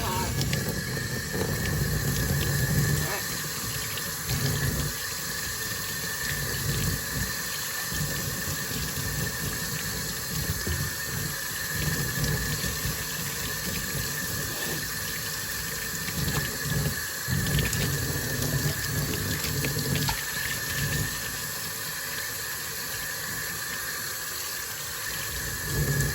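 Hot tap water runs steadily over reverse tie-dyed fabric as it is scrubbed and rinsed, a constant hissing splash with irregular soft sloshing and rubbing underneath.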